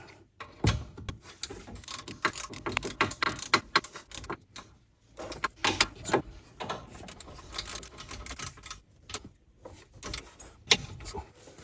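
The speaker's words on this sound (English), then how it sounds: "So those get torqued down to 59 foot-pounds." A wrench tightens the brake caliper bracket bolts on a 2016 Subaru Crosstrek, making close metallic ratcheting clicks and tool clinks in irregular bursts with short pauses between.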